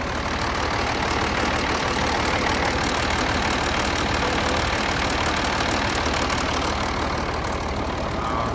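An M35A2 Deuce and a Half military truck engine runs steadily, close and loud, a continuous low rumbling idle that holds even throughout with no talk.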